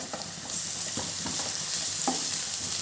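Ginger garlic paste sizzling in a pan with spices for an aloo curry, a steady hiss of frying broken by a few scraping stirs, close and fairly loud with no voices.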